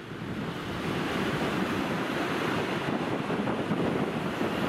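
Wind rushes over open water as waves wash and surf breaks continuously, a steady broadband roar with wind buffeting the microphone, no voices.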